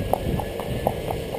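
During riding training, a horse's hooves clip-clop in an even, steady rhythm, with six or so moderately loud footfalls over a constant low background hum.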